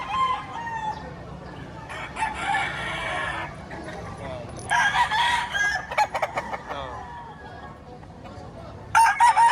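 Chickens cluck and a rooster crows in bursts at a livestock auction market, with several birds calling close by and some background voices.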